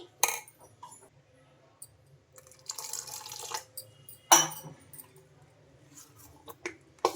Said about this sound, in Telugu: ఇంకా ఈ వాటర్ కూడా వేసేసుకొని స్పూన్తో ఒకసారి బాగా కలిపేసుకోవాలి